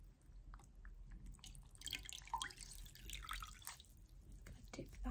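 A face washer dipped and wrung in a bowl of warm water gives close, soft sloshes and trickling drips, swelling in the middle and again at the end, with a faint voice in the background.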